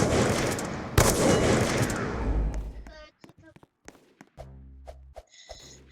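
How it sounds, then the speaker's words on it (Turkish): Gunfire in a Roblox first-person shooter game, a loud burst of rapid shots followed by sparse single cracks and clicks. Voices talk over the action. "Son saniyede vurdum bir adamı."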